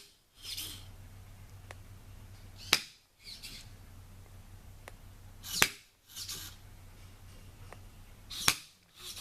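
Electronic dog training bumper launchers fire with three sharp loud cracks a few seconds apart, each followed by a brief whoosh, over a low steady hum and faint background noise.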